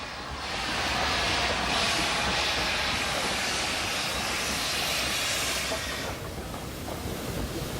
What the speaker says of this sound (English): Left behind by the Japanese after World War II were a couple of these C-32 class 262 tanks, a typical Nippon product.